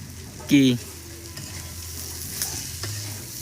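Pork cooking in a pan with a sharp stirring scrape near the start, then a steady low sizzle running underneath, with faint background voices.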